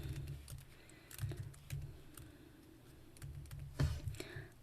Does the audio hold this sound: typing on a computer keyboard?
yes